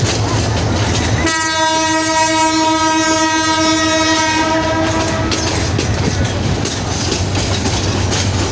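An intercity train rumbles past with clattering wheels in Bangladesh while a long, loud horn blast sounds for several seconds, then the rolling noise continues alone.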